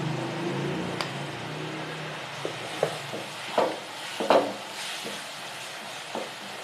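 Crab curry masala frying in oil with salt, chili powder and green chilies, a soft steady sizzle broken by several scraping stirs and clinks of a spoon against the pan, no talk.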